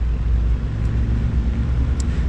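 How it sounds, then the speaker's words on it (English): A 2022 Genesis GV70 Sport Prestige 3.5T backs up as it parks itself with nobody inside. A steady, close, low engine rumble runs throughout without any talking. "it's gonna go ahead and park itself with nobody inside of the car"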